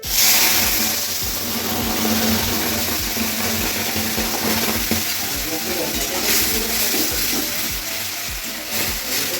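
Chutney poured into hot oil seasoned with Kashmiri chili powder sizzles steadily, a loud close frying hiss with stirring scrapes running throughout and no talking.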